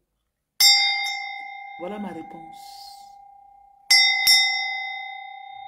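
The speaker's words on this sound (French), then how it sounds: "Si le son de ma cloche te dérange" A hand bell rings twice with a clear, sustained metallic tone. Each strike is a loud, bright double ding that fades slowly, and a voice speaks briefly between the two rings.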